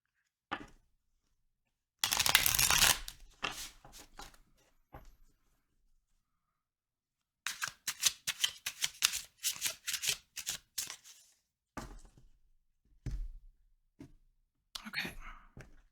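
A deck of cards shuffled several times in short riffling bursts, close and fairly quiet, with a person speaking softly between the shuffles.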